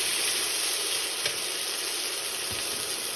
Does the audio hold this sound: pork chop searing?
yes